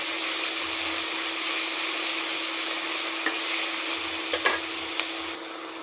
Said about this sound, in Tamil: வெங்காயம் தக்காளியை போட்டு ரெண்டும் நல்லா ட்ரையாக வரணும்